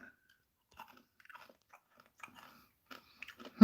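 Someone bites and chews chocolate-filled Canadian snacks, with a scatter of small close crunches and crackles at an irregular rhythm and quiet pauses between bites.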